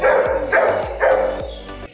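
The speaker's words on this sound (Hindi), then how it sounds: "ये एक शिकारी कुत्ते टाइप लग रहा है, जैसे शिकार फैमिली पेट है, वैसे ही भौंक रहा है वो" A hunting-type dog barks at an animal market in Lahore, a quick run of four sharp barks in an uneven rhythm, close and fairly loud, with no voices over it.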